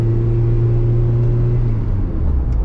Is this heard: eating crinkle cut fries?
no